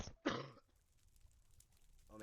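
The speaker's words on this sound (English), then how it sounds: "Oh man, I just coughed right there" A single sharp cough, close and loud, from a person, followed by quiet room tone before talking resumes.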